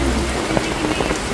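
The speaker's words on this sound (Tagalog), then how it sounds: "Lumakas na po ang ulan mga chula." Heavy rain during Typhoon Aghon pours in a dense, loud, continuous wash, with scattered drops striking close by.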